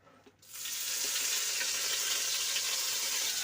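Cut curry leaves drop into hot oil and set off a sudden burst of sizzling. It rises within half a second after a quiet start, then holds as a loud, even crackle.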